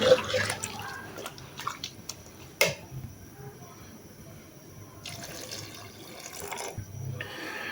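About half a litre of water splashes and pours into a metal cooking pot of chicken and vegetables in several bursts, with clinks of cookware between the pours.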